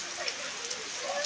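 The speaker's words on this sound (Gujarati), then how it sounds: "વરસાદ ચાલુ જ છે" Steady monsoon downpour over a village, a continuous, even hiss of falling rain with faint patters close by.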